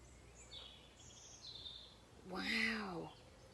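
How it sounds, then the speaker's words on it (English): Garden birds call outdoors in faint, thin chirps, followed by one louder, closer arching call near the end, over quiet background ambience. "What's making that sound? It's all the birds."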